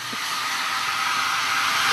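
A hair dryer blows in a hotel room, a steady, even rushing whir heard close and continuously with no pauses or speech.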